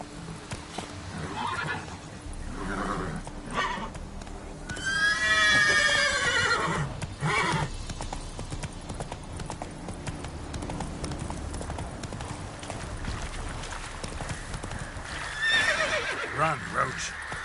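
Roach, Geralt's horse in the Witcher 3 game, gallops with rapid hoofbeats and lets out a loud, shrill whinny midway, with a second neigh near the end, while a voice speaks over the action.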